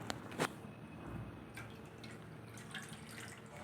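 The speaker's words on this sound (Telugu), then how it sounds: "ఒక కళాయి పెట్టి అందులో రెండు కప్పుల వాటర్ పోస్తున్నానండి" Water poured into a kalayi (pan) for oats cooking, with light splashing and drips through a quiet kitchen background, a brief sharper splash near the start.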